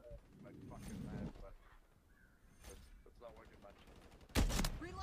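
Pistol gunfire in Call of Duty Modern Warfare 3, a few sharp reports separated by pauses, with one loud burst near the end, under faint talk and game noise.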